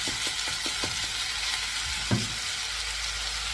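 Szechuan chicken with cooking wine sizzles in a hot pan, with a quick burst of rhythmic stirring scrapes early on, then a single louder clatter and a steady frying hiss.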